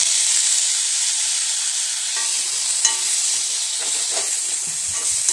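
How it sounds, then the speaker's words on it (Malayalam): Chopped tomato goes into a pan of frying onions for a soya chunk masala. A steady, bright hiss of sizzling oil runs throughout, with small crackles and stirring clatters toward the end. "ഈ സമയത്ത് നമുക്ക് ഒരു തക്കാളി ഞാൻ അരിഞ്ഞ് വെച്ചിട്ടുണ്ട് അതുകൂടി ഇട്ട് കൊടുക്കുവാണ്"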